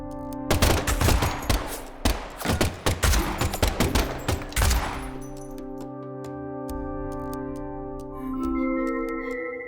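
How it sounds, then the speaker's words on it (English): Gunfire from the video game Deadly Premonition 2 on Switch: a loud, rapid volley of sharp shots crackles for several seconds, then gives way to sustained musical tones. "the last gunshot we heard sounded ominous, Zach."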